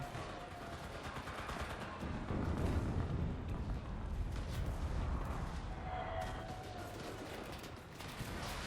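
Gunfire in the video game Enlisted: dense, noisy bursts and rumbling shots pile up in a continuous fusillade, fairly faint overall, with no voices.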